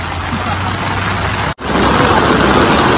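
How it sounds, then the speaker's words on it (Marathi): Dense, loud rain roars steadily, a broadband wash of noise with a brief break partway through before the downpour resumes. "खूप जोराचा पाऊस सुरू झालाय"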